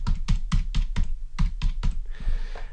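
Keys clatter on a computer keyboard in a quick burst of about ten crisp, close taps, evenly spaced at first, then trailing off into a brief softer shuffle, with no voices.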